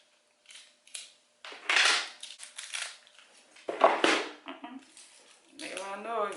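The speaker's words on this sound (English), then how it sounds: "I gotta cut into this one. This is like wrapped up." Scissors snip and slice into a wrapped package in several separate bursts of cutting and crinkling, with handling rustles between strokes and a brief voice near the end.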